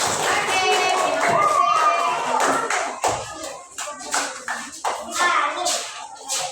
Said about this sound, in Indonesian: Kita berikan aplaus, tepuk tangan.